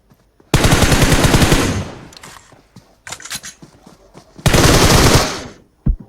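Automatic gunfire from the mobile battle royale game PUBG Mobile: two long, loud sustained bursts of rapid shots with a shorter, scattered volley between them and a brief final pop, with no talking.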